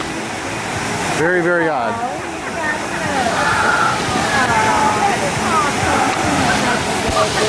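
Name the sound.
water flowing down a theme park ride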